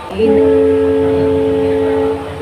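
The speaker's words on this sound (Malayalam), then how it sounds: "ബാക്കിലെ എൻജിൻ ഈ ഒരു ട്രെയിനിനെ തള്ളിക്കയറ്റുകയാണ്." A train climbing through Thenmala, pushed from behind by a rear engine, sounds a loud, steady horn-like tone for about two seconds over a low rolling rumble.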